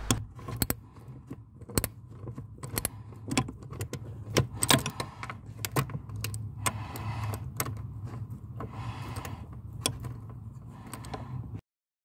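Bolts being undone on the clutch master cylinder of a BMW E30, close sharp metallic clicks and clinks of a tool at an irregular pace over a low steady hum, with no talk.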